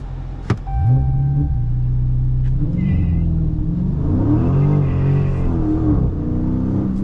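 A Dodge Charger Scat Pack launches hard on launch control, its engine note climbing and rumbling loudly in repeated surges of acceleration, heard up close with no talking.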